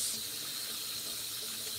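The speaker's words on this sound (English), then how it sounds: "I forgot I turned to the hot water side." Hot water pours steadily from a kitchen tap into a sink, a continuous hissing rush with no talking.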